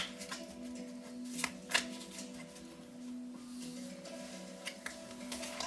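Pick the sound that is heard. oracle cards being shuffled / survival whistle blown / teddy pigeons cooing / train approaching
oracle cards being shuffled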